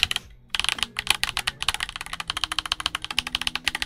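Rapid, steady clacking of a Redragon K656 Garen Pro mechanical keyboard being typed on, close and loud, with a deep, clacky keystroke rhythm after a brief pause at the start.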